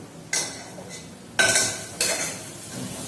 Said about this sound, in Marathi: आता चांगला मसाला फ्राय करून घ्यायचा.